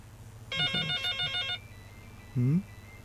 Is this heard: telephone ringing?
yes